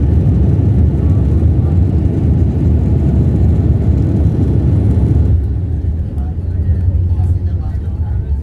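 A passenger plane touching down and rolling along the runway, heard from inside the cabin as a loud, steady, heavy rumble that drops to a quieter hum about two-thirds of the way through.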